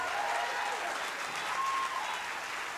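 A large convention crowd applauds steadily and densely, a continuous wash of clapping with faint cheers mixed in, close and even in loudness throughout.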